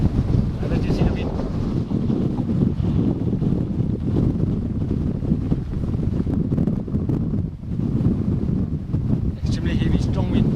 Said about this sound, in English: Extremely heavy, strong wind.